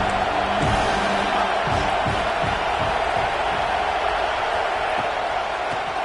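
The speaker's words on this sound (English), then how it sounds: "The roar of the crowd trying to fuel this defense to keep them pinned in their own end" A football stadium crowd roars in a sustained, dense wall of noise during a defensive stand, loud and continuous, with distant shouts and thumps mixed into the din.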